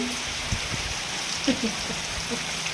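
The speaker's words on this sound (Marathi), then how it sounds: "पाऊस तर लागतोय बाहेर" Steady rain hisses outside, a dense wash of falling water with a few faint thuds and drips and a soft voice briefly underneath.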